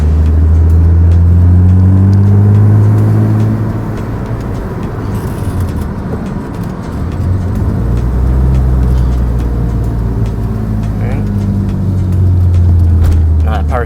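A BMW M3 E36 under restoration drives along with a strong low engine drone and road rumble, its failing power steering pump adding a faint thin whine; the engine swells and dips as it pulls through the gears.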